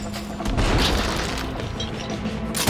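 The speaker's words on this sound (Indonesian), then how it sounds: "dengan cepat Russo melepaskan tembakan" Gunfire in a mafia action film shootout: loud, dense bursts of shots and impacts crowd the whole stretch, with booming low end and sharp cracks running continuously at close range.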